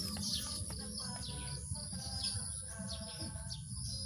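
Pet pigeons call with soft chirps and coos over a steady low rumble of background noise, with scattered bird sounds repeating throughout.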